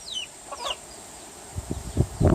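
A few rooster and chicken clucks sound nearby on an evening farm, then a quick run of sharper clucks toward the end, over faint wind and distant chirping birds.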